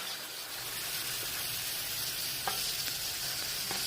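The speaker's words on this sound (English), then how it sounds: "I'm just going to go ahead and brown my beef until it loses all its pink color." Ground beef browns in a pan with a steady, close sizzle and a few soft scrapes from stirring, holding at an even level throughout.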